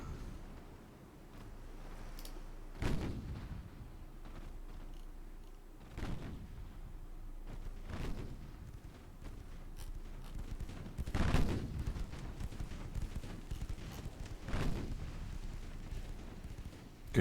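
Naval gunfire in a warship video game switching to armour-piercing shells: a run of heavy, booming shots and impacts, muffled and spaced a few seconds apart over a steady rumbling background.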